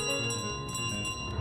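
A goose's bell in Untitled Goose Game jingles steadily for a moment among bright game sounds and music, close and fairly loud, with no talking.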